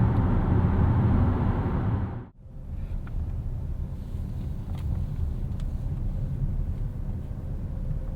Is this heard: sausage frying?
no